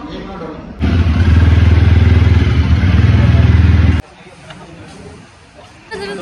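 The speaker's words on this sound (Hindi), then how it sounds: "बाइक निकाल ली भाई" A motorcycle revs up loudly and runs steadily at close range for about three seconds, then cuts off abruptly, leaving quieter background voices and household noise.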